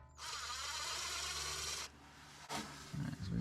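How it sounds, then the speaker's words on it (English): An impact wrench undoes a 10mm screw on the driver's-side front ABS wire harness of a 2008 Toyota Tundra. It gives one loud, close burst of about two seconds that stops sharply, followed by a few softer clanks. "We're just going to undo that with an impact wrench."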